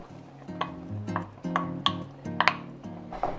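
Shrimp and lump crab go into a pot of seafood pot pie sauce with soft clinks and scraping stirs against the pot, set over a low tonal hum and arriving as a few separate close knocks.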